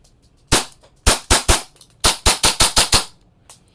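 An EMG Pit Viper airsoft gun fires through a chronograph, sharp close snapping shots: one single, then a quick burst of three, then a rapid string of six, and a last lone shot.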